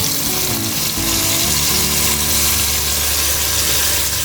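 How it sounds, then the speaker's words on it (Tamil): Chicken biryani masala sizzles loudly in a pressure cooker, a dense, close, continuous frying hiss that stays steady throughout with no talk. "கொஞ்சம் லைட்டாக கிண்டி விட்டுருங்க."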